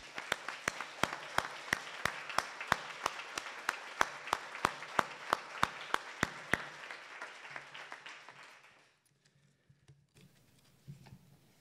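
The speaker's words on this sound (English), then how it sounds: "I just wanted to give one last round of applause to our speakers" Steady applause from an audience, dense clapping with sharp individual claps standing out, fading away after several seconds.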